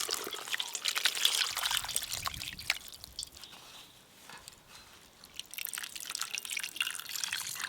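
Water poured from a mug over pieces of elephant foot yam to rinse them, with splashing and trickling that comes and goes, dripping between pours, close by, with no talking.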